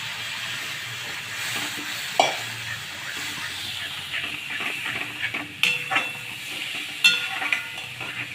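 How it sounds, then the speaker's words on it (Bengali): Yogurt-coated spiced masala fries in a pan for a Bengali doi katla fish curry, giving a steady close sizzle with occasional stirring scrapes and clinks. "মশলাটা আমার কষানো হয়ে গেল, এখন আমি দই ঢেলে দিলাম।"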